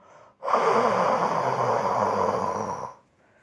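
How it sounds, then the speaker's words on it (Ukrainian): A long, steady breath blown out through the mouth onto cupped palms to warm them during a children's winter breathing exercise, a single close, breathy exhale of about two and a half seconds that starts and stops abruptly. "Зігріти долоні, вдихаючись і видихаючи ротом."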